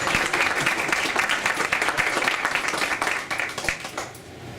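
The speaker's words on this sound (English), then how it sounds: "we will all give her a polite round of applause" Polite applause from an audience at a school board of education meeting, a steady dense patter of many hands clapping at close range that thins and fades toward the end.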